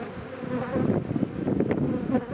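Honeybees buzzing at an opened hive with capped brood comb: a dense, continuous, close hum of many bees, loud and steady, with no talking.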